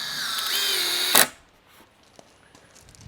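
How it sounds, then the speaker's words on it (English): Power drill driving a GRK screw into the edge of a board while framing windows for a barndominium, one loud high whine lasting about a second that cuts off abruptly, followed by faint handling noises. "Nice thing about using the GRK screws is that they go in very well at the edges of your board without worrying about that board cracking."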